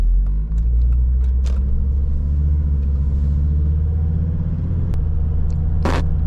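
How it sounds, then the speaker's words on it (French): A Volvo XC70 accelerates, its engine giving a loud, steady low rumble heard from inside the car, with brief bumps as the gears change. "Pour l'instant rien à dire, tu vois, j'accélère. Hop, les vitesses elles passent."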